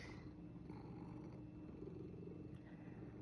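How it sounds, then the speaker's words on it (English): A domestic cat purrs close by in a steady, continuous low rumble that stays even and soft throughout, with no other sounds. "And I know who you see is purring now."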